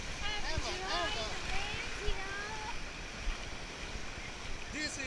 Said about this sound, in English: This is Atlantic Ocean.